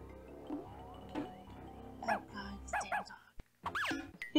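A cartoon dog in the Pajama Sam adventure game growls and barks in a few short, loud bursts that rise toward the end, with music and game sounds running underneath.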